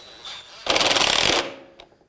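A screw is driven in to mount a radiator fan on a 2003-2007 Nissan Murano, a short, loud, close burst of rapid rattling from a power driver that lasts under a second and fades with a small click.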